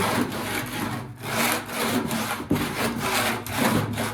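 Sandpaper is worked hard across body filler on a custom cowl hood for a 1983 Chevy G20 van, a loud, close, rhythmic back-and-forth rasping stroke repeated steadily.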